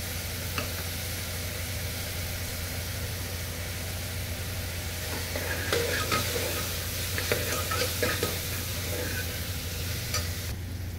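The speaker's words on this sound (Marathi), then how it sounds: "आता हे मी चांगले मिक्स करून घेते। याच्यामध्ये मी थोडीशी कोथिंबीर टाकते, थोडीशी अर्धा चमचा हळद टाकते।" Browning onions for mutton kheema sizzle steadily in a hot pan while a spoon stirs in coriander and turmeric, giving a constant frying hiss with light scraping clinks.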